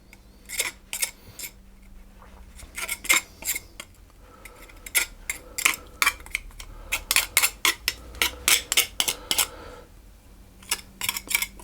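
A metal pastry cutter works butter into flour for rough puff pastry, giving repeated sharp scraping clinks against a bowl in irregular bursts, close and fairly loud, with no talking.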